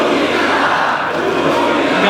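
A crowd at a Fliptop rap battle roars and cheers in a loud, continuous wall of voices that holds steady for a couple of seconds.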